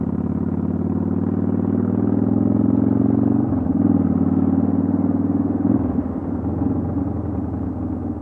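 A motorcycle engine hums steadily and loudly while ridden on a commute to work, with a continuous low rumble that shifts pitch a couple of times as the rider changes speed.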